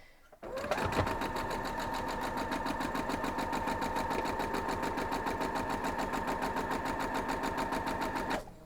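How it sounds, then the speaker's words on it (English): A sewing machine runs steadily and loudly for about eight seconds, joining quilt blocks into rows for a Double X quilt block, its fast mechanical needle rhythm continuous from start to finish with no talk. "Now we'll just sew up our blocks into rows"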